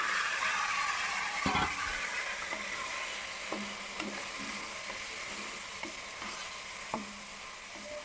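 Chicken pieces for an Awadhi chicken korma fry in hot oil, giving a steady close sizzle with scattered stirring clinks and scrapes throughout, no voices.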